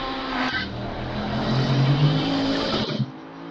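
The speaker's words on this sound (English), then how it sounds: "Really nice sounding Ferrari though" A Ferrari race car in a sim racing game at Monza, its engine roaring loud and steady for several seconds with revving pitch changes, close and continuous, alone without talk.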